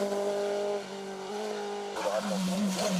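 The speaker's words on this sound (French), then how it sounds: "Et devance Steve Gérard, tous les 3 étant au volant de leur Tatus FR2000 respectives." Formula Renault Tatuus FR2000 race cars scream past at a hillclimb, a loud sustained high-revving engine note that shifts pitch as the car passes close by.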